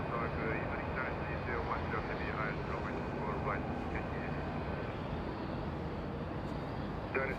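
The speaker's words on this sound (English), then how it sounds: "we're going to go and pan the camera to the arriving 777." A Boeing 777 airliner arriving at Los Angeles International Airport, its engines a steady broad roar heard from a distance that holds through the whole stretch, with a person talking over it.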